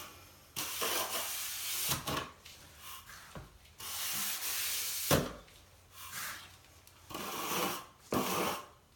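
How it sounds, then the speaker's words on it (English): Excess mortar is scraped off a shower floor mudbed with a hand tool. Rough, gritty scraping strokes come in repeated close bursts separated by brief pauses. "I know I got plenty of mud, so I'm just kind of taking excess off with this before I use my level."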